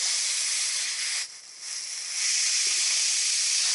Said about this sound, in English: I'm going to do a quick release, and that means that on the top of the pressure cooker